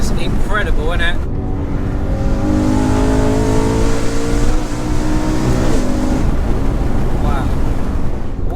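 A loud 2011 car engine revs up close, its pitch climbing and holding in a throaty roar before dropping back to a rumbling idle.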